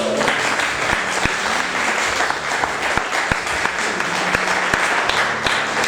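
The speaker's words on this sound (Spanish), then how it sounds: "dale un aplauso a Jesús" A church congregation claps together in loud, sustained applause for Jesus, with dense overlapping hand claps, a few sharp louder claps standing out, and crowd noise underneath.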